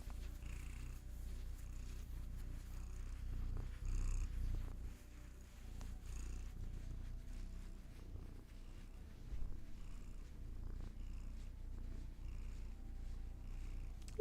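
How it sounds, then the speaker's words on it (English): A cat purrs softly and continuously up close, a low rhythmic rumble with no talking. "A little bit of purrs."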